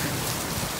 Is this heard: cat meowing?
no